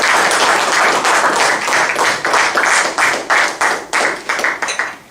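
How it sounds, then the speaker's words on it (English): Loud, close audience applause welcoming a speaker at a leadership talk, dense clapping that gradually breaks into distinct, rhythmic claps before fading. "We invite him with a big round of applause."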